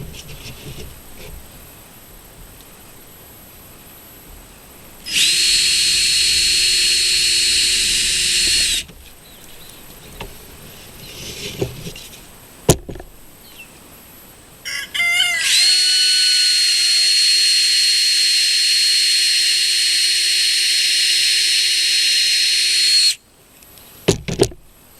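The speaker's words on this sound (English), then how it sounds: "I'm going to go ahead and make the drill hole" A power drill whirs in two long, steady bursts through a board, the second lasting several seconds, with quiet handling noises and a short pause between them.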